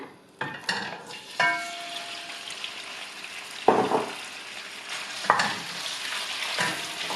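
Steady hiss and crackle of pieces of pork frying in hot oil in a large pot, with several sharp clanks of a utensil stirring the pan.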